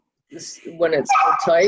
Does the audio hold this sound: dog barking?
yes